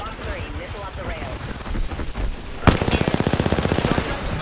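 Automatic gunfire in the shooter game Apex Legends, a sudden loud burst after a few seconds of game noise, then rapid, evenly spaced shots continuing to the end, with a voice talking underneath.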